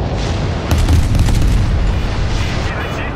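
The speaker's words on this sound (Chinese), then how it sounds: "主炮轰过了，副炮再来轰。" Secondary guns on a warship fire in the naval combat game 海战世界, producing a dense, rolling barrage of booming blasts that overlap into a continuous heavy roar.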